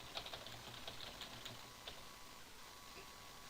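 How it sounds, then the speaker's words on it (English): Steady computer keyboard typing, a run of quick close key clicks in an irregular rhythm, fairly quiet over a low hum with no voices. "Then as I type,"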